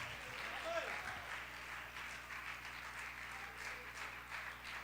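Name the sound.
applause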